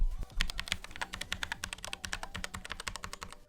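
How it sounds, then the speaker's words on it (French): Rapid keystrokes clatter on a Cooler Master CK352 mechanical keyboard with red switches, a dense, steady run of light clicks and soft thocks heard up close with no talking. "Il fait le bruit d'un clavier à switch rouge"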